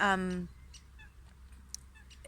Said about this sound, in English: this is a duck, it's really approaching, and it's quite noisy